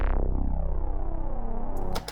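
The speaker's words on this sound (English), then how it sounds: "I then layered it with a really shorter plucky bass shot also from the one-shot kit" Layered bass one-shots from a sample kit, a short plucky bass over a deeper one, form a single heavy, booming bass note that sustains and glides, ending in a brief bright burst, close with no voices.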